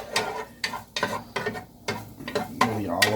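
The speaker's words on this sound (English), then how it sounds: "we're going to add the garlic in first. I'm going to stir this around." Garlic stirred in hot olive oil in a pan, scraping utensil strokes repeating irregularly over a soft sizzle, close and moderately loud.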